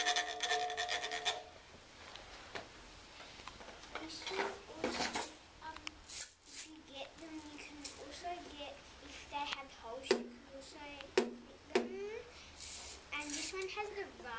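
An object scraped repeatedly against a shoe, giving quiet, irregular rasping scrapes and rubs in short bursts, close by, with faint background noise between strokes.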